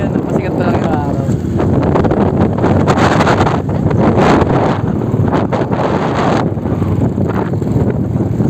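Wind gusts across a dike along a landfill at sunrise, buffeting the microphone with loud rumbling bursts and rustling throughout.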